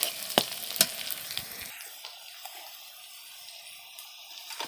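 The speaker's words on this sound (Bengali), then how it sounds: "লঙ্কা আর পেঁয়াজটা হালকা ভাজা হলে আলুটা দিয়ে দেবো" Chilli and onion fry in hot oil with a close, loud sizzle. A few clattering stirs of a utensil come first, then a steadier hiss settles in. No voices are heard.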